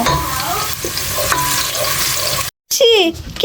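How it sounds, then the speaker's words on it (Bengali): Leftover cooked rice being fried and stirred in a pan makes a loud, dense sizzle with scraping. It cuts out abruptly for a moment, then returns briefly as a voice speaks over it. "ভাত রয়ে গেছে এগুলো এখন খুব সুন্দর করে আমি ভাজি করব"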